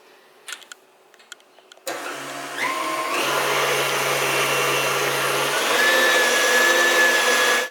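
Electric mixer whirring through a cheesecake topping, starting after a few faint clicks and knocks, then a loud, steady motor drone that climbs slightly in pitch and holds until it cuts off at the end, no voices.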